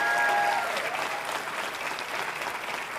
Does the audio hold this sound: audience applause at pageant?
yes